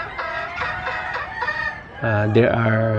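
Roundhead gamefowl roosters in breeding pens cluck in quick repeated notes, then one lets out a loud, close crow toward the end, with a voice talking faintly in the background.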